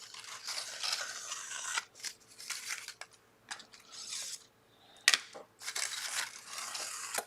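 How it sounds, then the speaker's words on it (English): Tim Holtz scissors cut through a glued wooden skewer in a craft project, with close snipping, rustling and handling and then a sharp crunching snap as the skewer is cut. "What can I use to cut the skewer?"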